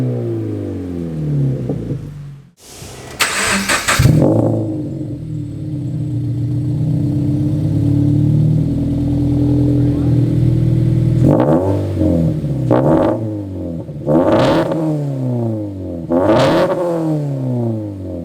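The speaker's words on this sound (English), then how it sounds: "I'm just trying to let my car warm up." A car fitted with ACE CS400 headers starts with a sharp burst, settles into a loud, steady, rumbling idle while warming up, then gives several quick throttle blips near the end.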